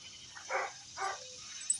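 A dog gives two short, soft barks about half a second apart, faint and somewhat distant against a quiet background.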